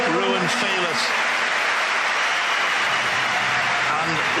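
German crowd at the 2017 World Table Tennis Championships applauding Ruwen Filus after his defeat: dense, sustained clapping filling the hall, loud and continuous, with a voice briefly audible at the start and end.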